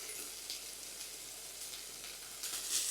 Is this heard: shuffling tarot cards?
no